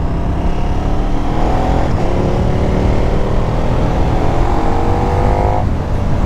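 A 2023 KTM 1290 Super Duke R motorcycle engine running on roads in Vendée, a loud continuous drone with shifting pitch throughout, near and dominant with no talk; separate exhaust pops are not distinct.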